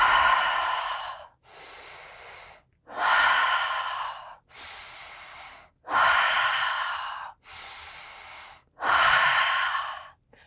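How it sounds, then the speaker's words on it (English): Slow, deep breathwork: four long, loud breaths in and out alternating steadily, each lasting over a second, close and clear with no talking. "We close our eyes and we take a deep inhale on a 3 count."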